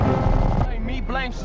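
A minigun in GTA San Andreas on Android roars in a dense, rumbling burst for about half a second, and a voice follows right after.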